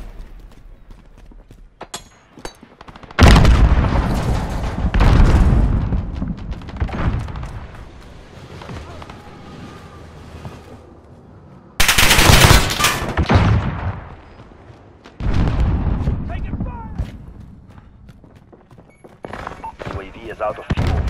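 Chopper gunner UAV machine gun fire in Modern Warfare: loud rapid bursts of heavy automatic fire in several long volleys with booming impacts, broken by pauses in which radio voices talk.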